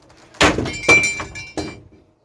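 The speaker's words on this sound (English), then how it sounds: "bang, that was the door" A door bangs shut at a garden allotment, a heavy thunk followed by rattling knocks of the frame, with a few loud impacts over about two seconds and no talk.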